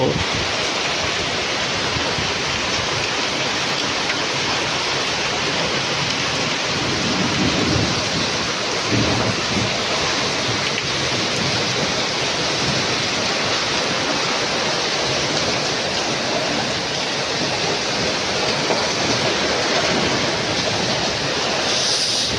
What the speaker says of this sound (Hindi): खतरनाक बारिश हो रहा है